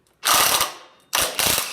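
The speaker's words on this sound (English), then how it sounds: "with an impact wrench," An impact wrench removes the torque converter on a gas EZ GO golf cart in two loud, close bursts of rapid hammering, the first longer and trailing off, the second following after a short pause.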